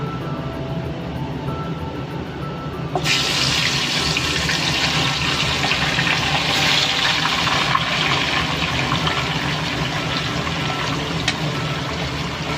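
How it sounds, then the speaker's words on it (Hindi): A kitchen water tap runs steadily while a bowl is washed in the sink, the flow growing louder after a few seconds and continuing unbroken and close. "अपने बाउल को अच्छी तरीके से आप साफ कर लें।"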